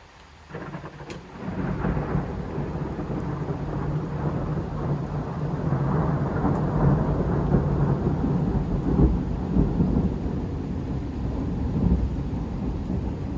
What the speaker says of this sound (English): But then the thunderstorm came and it started raining more heavily, a slight downpour.